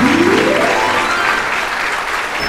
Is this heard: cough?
no